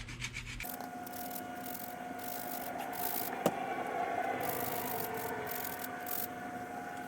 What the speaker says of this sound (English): We're going to do some orange zest.